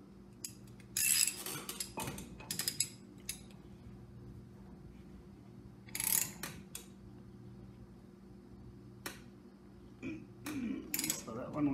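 A socket wrench snugs a wheel bearing nut on a full floating axle, giving scattered faint metallic clicks and clinks in short clusters over a quiet background.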